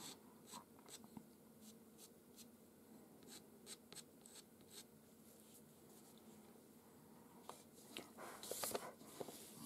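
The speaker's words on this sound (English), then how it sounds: "Let's scratch your black pencil over the surface very, very gently and add some single black hairs here." A black pastel pencil scratching very gently over paper while drawing Maine Coon cat fur, with quiet, close, irregular light scratchy strokes in short bursts and no talk.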